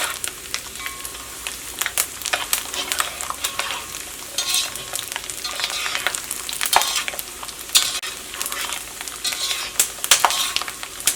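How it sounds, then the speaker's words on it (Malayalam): Steady crackling sizzle of coconut slices frying in hot oil, with occasional sharp pops and spatters and some stirring, no voices. "തേങ്ങക്കൊത്ത് ഒന്ന് നന്നായിട്ടൊന്ന് മൊരിഞ്ഞ് വരണം"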